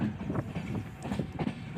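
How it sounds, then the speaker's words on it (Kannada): Mysuru-Shirdi Express pulling into Chitradurga station, a steady rumbling rattle of rail cars with faint rhythmic clatter, continuous and fairly close, with no voices over it. "finally one six to one seven Mysuru to Shirdi express train ನಮ್ಮ ಚಿತ್ರದುರ್ಗಕ್ಕೆ ಬಂದಿದೆ"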